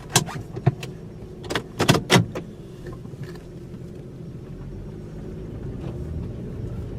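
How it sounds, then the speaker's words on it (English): A cold car warms up, with a few sharp clicks and clunks from doors or keys at the start, then a steady low engine rumble idling and building slightly as the vehicle pulls away. "I'm going to let the car warm up for just a minute because it's kind of cold out, and then we'll take it for a spin"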